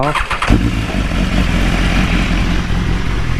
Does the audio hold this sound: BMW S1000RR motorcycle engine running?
yes